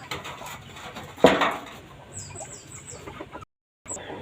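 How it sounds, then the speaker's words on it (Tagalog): Chickens cluck and chirp softly nearby, with a brief scratchy burst and light pecking sounds in an otherwise quiet setting. "aking mga manok ayun no naghanap ng makakain"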